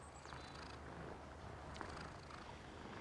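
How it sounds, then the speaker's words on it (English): A content cat purrs softly and steadily up close, a low continuous rumble with faint rhythmic breaths and no voices over it. "Yes, he starts purring. That means he's content."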